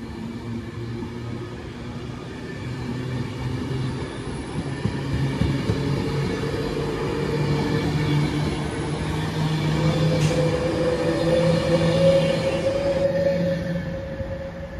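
A London Northwestern Railway Class 350 electric multiple unit pulls into Milton Keynes Central on a rush-hour service to Crewe from London Euston, a steady, loud rumble with faint humming electric tones that swell slightly as it draws alongside.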